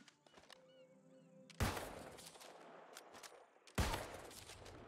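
Rifle gunfire in a video game, two sharp loud shots roughly two seconds apart, each with a long ringing decay over a quieter game soundscape.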